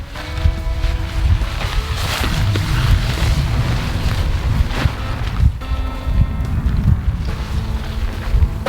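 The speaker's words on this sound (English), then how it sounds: "The wind's coming this way." Steady, loud wind buffeting the microphone in open desert while a tent is pitched, a continuous rumbling roar with gusts and faint fabric flapping throughout.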